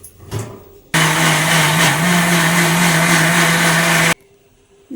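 A mixer grinder whirs loudly and steadily as it grinds taro stem chutney paste with salt and water, starting abruptly and stopping after about three seconds, with quieter kitchen noise before and after.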